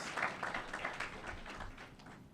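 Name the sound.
audience applause for Ms. Carew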